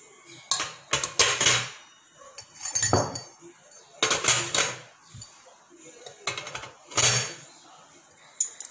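Brass puja vessels dropped one at a time into a metal pressure cooker, giving a series of loud metallic clanks and clinks in separate bursts, each ringing briefly before the next.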